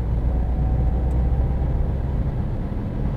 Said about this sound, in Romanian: Suntem la 70 de km pe oră și încerc să accelerez cu pedala la jumătate.